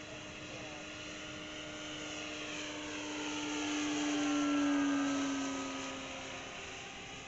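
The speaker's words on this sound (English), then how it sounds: "So this is wide open throttle" Small-scale propeller engine of a 79-inch, 2000 mm RC P-40 model airplane held at wide open throttle in flight, a steady droning whine whose pitch and loudness swell to a peak midway and then ease off.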